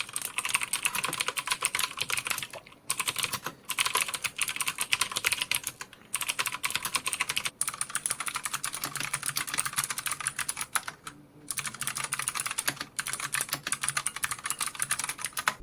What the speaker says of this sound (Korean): 청축과 광축의 차이를 들어보시고 그 다음 제가 느낀 점들을 말씀드릴게요